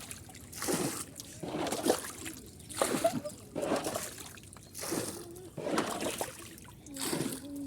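Water sloshes inside a boat in a regular rhythm, a swelling splash roughly every second, each surge rising and fading against a quieter wet background.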